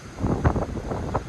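Gusty wind buffeting the microphone, a constant low rumbling roar with bursts of louder blasts.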